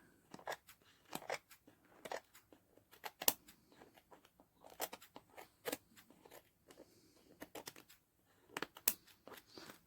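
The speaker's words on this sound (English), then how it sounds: "I've cut round the edges to get rid of the excess." Scissors trim the excess paper from the edges of a tag-style mini journal, giving quiet, close, irregular snips and crisp crunches with short pauses between cuts.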